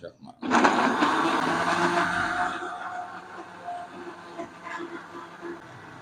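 A kitchen blender whirs loudly as it purées mango into pulp, the motor rising abruptly to a steady drone and then easing slightly before fading. Nobody talks over it.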